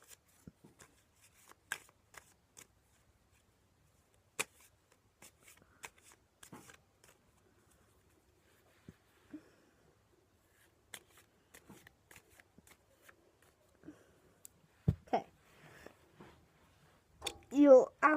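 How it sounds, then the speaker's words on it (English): Cards being shuffled in several short bursts of riffling and flicking, quiet at first and building to louder, denser riffles near the end. "I'm just going to shuffle the cards"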